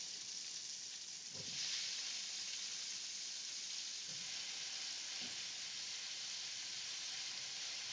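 Steady crackling sizzle of vegetable stalks frying in hot oil, with a few brief low thumps and stirring noises, no voices.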